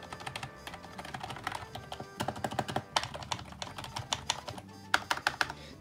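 Rapid, uneven clatter of fingers typing on a Logitech G213 non-mechanical computer keyboard, close and fairly quiet, with short pauses between bursts of keystrokes.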